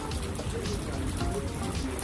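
Rain pattering steadily on surfaces outdoors in the small tourist town of Königswinter, a dense close patter with faint voices in the background.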